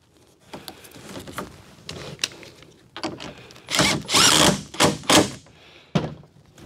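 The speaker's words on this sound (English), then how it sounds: "So I'll just put the front screws in." A power drill drives the front screws into a TYM tractor's grill, with several short whirring bursts close by, a longer louder run in the middle, and knocks and handling noise in between.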